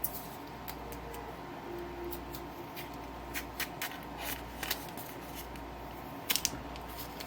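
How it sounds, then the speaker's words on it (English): Sticky label being slowly peeled off a plastic yogurt cup, faint crackly tearing and scattered soft ticks with a few sharper snaps near the end, close up and quiet. "getting this label to start peeling"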